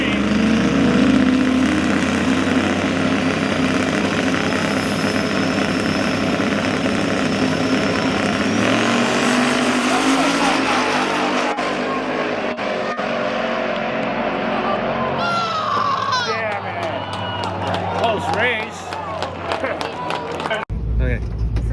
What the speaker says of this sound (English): Now spooling the engines.